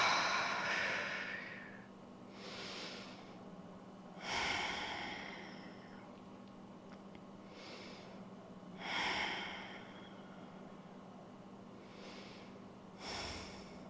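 Slow, deep breathing during a yoga session, with audible inhales and exhales in an even rhythm about every four to five seconds, close and soft against a quiet background hum.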